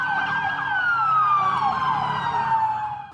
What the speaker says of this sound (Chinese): 警车甲救护车警示声大响